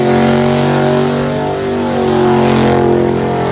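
A Toyota Corolla KE70 burnout car fitted with an LS1 V8 engine runs loud and close, a thick, steady rumbling drone with a slight swell in revs.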